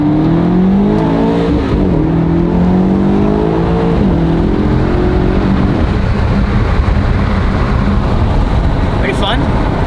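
A Lamborghini Urus switched into track mode accelerates hard, its engine note climbing through rising sweeps with shifts, loud and close from inside the cabin, then fading into road and wind roar.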